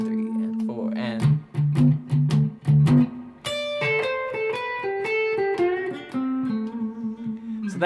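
Electric blues guitar playing a lick in a shuffle feel: a run of sharp plucked notes and bends, then sustained ringing notes, played alone and fairly loud.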